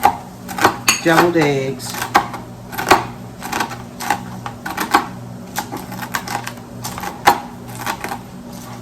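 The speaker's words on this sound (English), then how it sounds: "we're going to take the bacon and just cut it. You want to cut it up kind of small" A knife chops bacon into small pieces on a cutting board, giving a rapid uneven series of sharp close taps and clacks, with a brief voice partway through.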